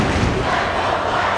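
Basketball crowd on its feet at Haehl Pavilion during the Piner vs Healdsburg boys league final, a loud, dense, unbroken roar of cheering close around.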